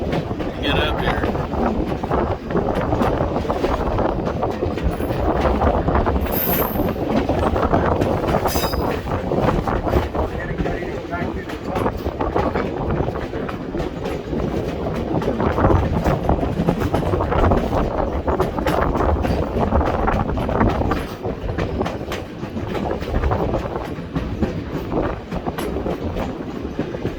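A train ride near Skagway, Alaska: a loud, continuous rumble of railroad cars with rhythmic clickety-clack of wheels on the rails and occasional wheel squeal, heard from on board.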